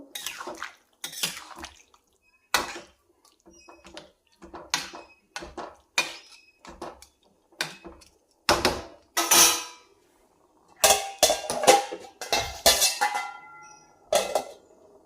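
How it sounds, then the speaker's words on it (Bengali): Vegetables stirred and scraped in a metal pot, then covered with a lid: a run of clattering utensil scrapes and knocks at close range, with brief pauses between bursts and a louder, denser stretch near the end. "দিয়ে ভালো করে নেড়ে চেড়ে ঢেকে দেব"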